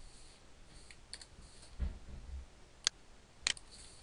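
A computer keyboard gives a few sparse, faint keystroke clicks while text is entered into a website template, quiet and alone.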